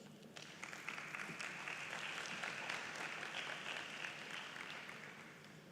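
Audience applause for speakers on a transit guarantee scheme at the Intra-African Trade Fair, a sustained, fairly faint wash of many hands clapping in a large hall, steady for several seconds with no talk over it.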